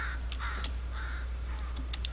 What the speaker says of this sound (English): And here's the anomalous crow